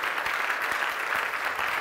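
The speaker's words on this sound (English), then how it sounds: "Clap for the Lord." Church congregation clapping during a prayer service, a dense steady wash of applause from many hands with a few stronger claps standing out, filling the whole short stretch without speech.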